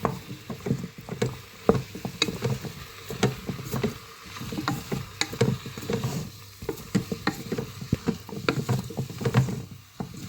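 Wet stirring and scraping of beef in a pot, steady and close, with soft sizzling and clinks of a utensil against the sides.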